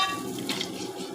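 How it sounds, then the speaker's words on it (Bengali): Lentil dumplings (bori) fry in hot mustard oil, giving a steady close sizzle and crackle that fills the short moment with no voices. "বড়িগুলোকে লাল লাল করে আমি ভেজে নেব"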